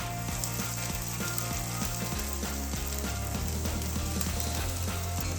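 Chopped ginger frying in a hot pan with garlic for egg chilli, a steady loud sizzle with faint scraping and stirring clicks throughout, no voices.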